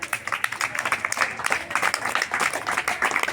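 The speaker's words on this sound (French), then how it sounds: "Merci, applaudissez Noura." Children and audience applaud Noura with brisk, uneven clapping that holds steady and fairly close throughout.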